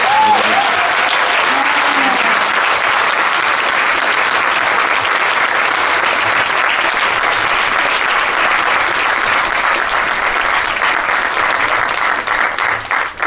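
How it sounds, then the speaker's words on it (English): Sustained, dense applause from a conference audience welcoming speakers to the stage for a talk on Taoist sexuality, loud and steady throughout with a brief vocal tone near the start. "Please welcome them to the stage with a very, very big applause"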